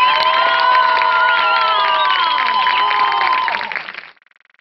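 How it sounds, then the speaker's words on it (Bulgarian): An audience applauds and cheers loudly for the participants in a film, a dense wash of clapping with whoops and shouts that holds steady, then fades out abruptly near the end. "Ако може само едни много силни аплодисменти за всички участници в този филм."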